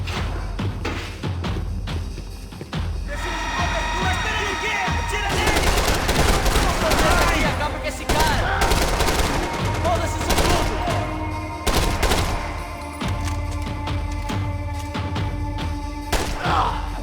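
Sustained gunfire from the video game Max Payne 3, bursts of automatic weapon fire and single shots rattling almost continuously at close range, with heavy thumps mixed in and someone speaking over parts of it.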